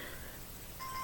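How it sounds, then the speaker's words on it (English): A bedside alarm clock goes off before dawn during Ramadan, a thin steady electronic beep tone coming in near the end of a faint, quiet room hum. "oh, that's my alarm clock"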